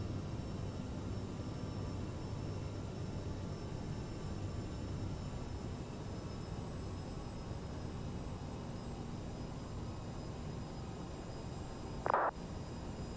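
Aerosoft CRJ jet airliner on ILS approach with full flaps in Microsoft Flight Simulator, a steady, quiet engine and airflow hum that stays even throughout, broken by one brief click near the end.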